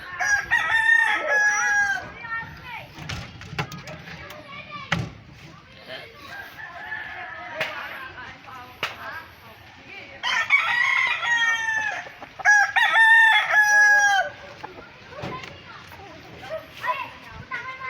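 Roosters crow repeatedly on a creek farm, several loud close crows with clucking between, while someone talks in the background.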